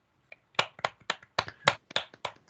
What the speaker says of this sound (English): let's do a round of applause for our speakers